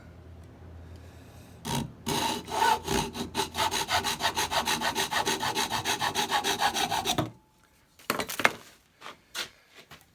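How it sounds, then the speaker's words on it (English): Rapid back-and-forth rasping of a hand saw through wood, many quick even strokes, then a pause and a few slower final strokes. "Sawing that off."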